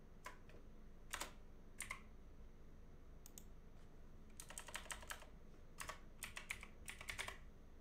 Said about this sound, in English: Sorry, I'm awful with the keyboard here.